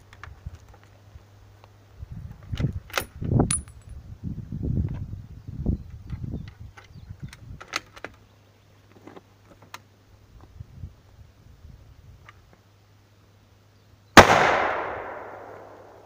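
A single close, loud rifle shot fired through a large suppressor cracks out with a fading tail, after a stretch of quiet handling clicks and ticks over a low steady hum.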